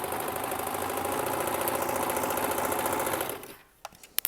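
A sewing machine runs steadily and loudly while stitching a fabric seam, keeping a fast, even mechanical whir for about three seconds before it stops. A few faint clicks follow.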